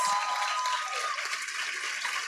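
Applause from the audience at a school graduation ceremony: a dense, even wash of many hands clapping, fairly distant and steady for the whole moment.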